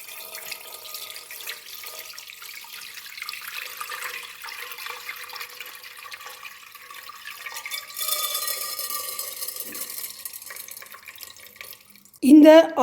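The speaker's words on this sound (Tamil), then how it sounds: "இந்த நினைய போட்ட அரிசியையும் இப்போ நாங்கள் தண்ணியை வடித்து எடுத்து போட்டு" Water trickles and splashes steadily as it is drained off soaked rice in a home kitchen while making aadi kool, a soft close pouring that swells midway, ending in a brief louder clatter.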